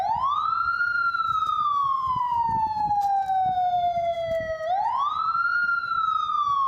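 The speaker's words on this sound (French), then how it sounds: "La sirène couvre un diamètre de 300 mètres" A loud electronic siren from a portable Israeli military alarm system wails steadily, its pitch slowly falling and then sweeping back up in a long continuous cycle, heard alone without talk.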